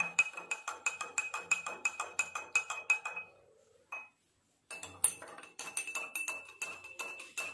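A metal spoon stirring salt and sugar in glasses of water makes rapid, rhythmic clinks against the glass, pausing briefly partway through before resuming quickly, close and clear with no talk.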